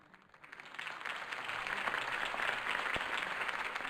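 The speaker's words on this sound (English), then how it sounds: "could have heard that applause" A crowd's applause in the Batman Telltale Series video game swells up from quiet into steady, dense clapping that holds through to the end.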